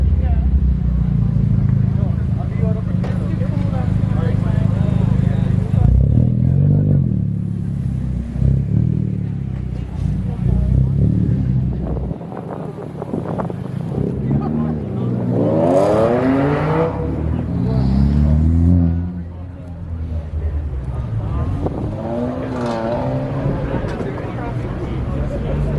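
A 2015 Nissan GT-R fitted with a Varis carbon kit revs its exhaust in loud, close bursts, with people talking over and between the revs.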